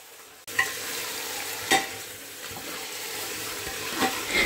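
Mutton stirred in a pot with chilli powder and turmeric gives a soft, steady sizzle, broken by a few brief scrapes and knocks of the spoon, fairly close and without any talk.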